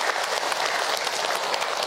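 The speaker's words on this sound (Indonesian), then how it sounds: "Tepuk tangan buat bunda yang sudah bertanya." A studio audience at an Islamic religious lecture claps in a thick, continuous wave of applause, loud and even throughout, with no voices over it.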